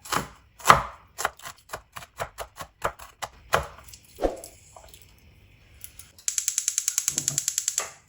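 Okra is cut into small pieces with a knife on a board, giving a run of distinct close chops at an uneven rhythm, then a quick ratcheting burst of rapid clicks at the end.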